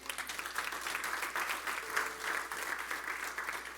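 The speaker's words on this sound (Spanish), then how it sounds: "¿Cuántos pueden darle un fuerte aplauso al Señor?" Church congregation applauding together during a Christian service, a steady wash of many hands clapping, moderately distant and even throughout.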